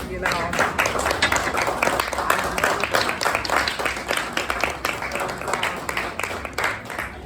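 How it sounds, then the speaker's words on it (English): A crowd at a hip hop political party meet and greet applauds, steady dense clapping from many hands close by, with voices mixed in throughout. "just give yourselves a round of applause"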